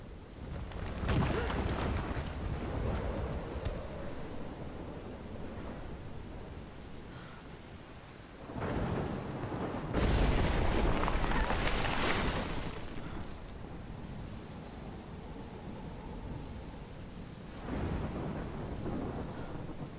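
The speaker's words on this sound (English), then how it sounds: "I've never seen a storm like this in Oregon." A thunderstorm with rain in the Life is Strange video game, set in Oregon: steady heavy rainfall throughout with several loud rolling thunder claps, one near the start, a bigger one around the middle and another near the end.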